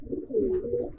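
Racing pigeons coo in a single soft, rolling call lasting about a second, close by with no talk over it.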